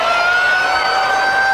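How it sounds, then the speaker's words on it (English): The loud final siren at a rugby league match blares steadily as one sustained, continuous tone, heard alone. "There's the final siren."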